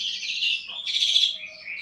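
A Bali myna (Jalak Bali) kept for captive breeding gives short, bright chirping calls, a few clear notes close by with no other sound around them.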